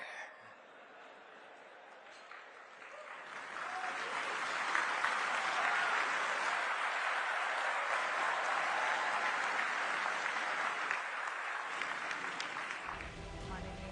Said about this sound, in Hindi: इंडिया मोबाइल कांग्रेस में मौजूद देश के बड़े उद्योगपतियों, कारोबारियों और मेहमानों की तालियों